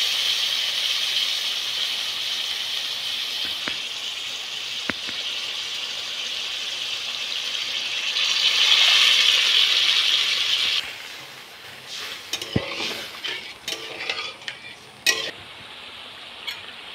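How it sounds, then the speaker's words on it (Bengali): Curry broth for an eggplant begun basanti dish boils in a pan with a steady, close bubbling hiss. Toward the end, sharper clicks and scrapes of stirring cut in. "ঝোল খুব ভালোভাবে ফুটে গেছে।"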